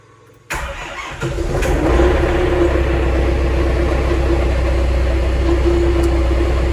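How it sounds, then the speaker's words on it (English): A tractor engine starts and settles into a steady, loud running drone, on a winter farm during a storm while feeding Dexter cattle; the engine catches after a brief quiet moment and keeps running without talk. "Thinking maybe I should take the tractor."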